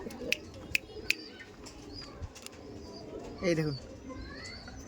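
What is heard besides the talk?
Madras pigeons cooing in a loft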